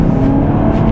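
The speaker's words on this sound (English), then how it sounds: "But the acceleration on this car," A 2023 Volkswagen GTI with a six-speed manual accelerates hard on the Autobahn, a loud, close, sustained engine drone with a steady tonal hum over rushing road and wind noise from inside the cabin.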